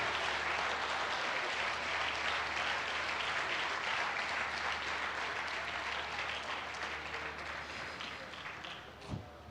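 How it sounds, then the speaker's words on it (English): Sustained audience applause for volunteers at an IRONMAN 70.3 triathlon event in Bahrain, a dense, even roar of many clapping hands that thins slightly near the end, with one brief knock just before it stops. "For the volunteers, please, a huge round of applause to say thank you."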